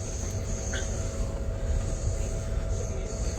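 Amtrak California Zephyr passenger train rolling on rails near Emeryville, heard from inside as a steady close rumble of wheels and carriage, with faint high squeals and no talk.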